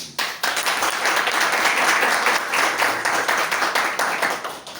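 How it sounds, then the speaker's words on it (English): Steady applause from a room of people, sustained clapping for about five seconds before tapering slightly at the end. "Round of applause for them,"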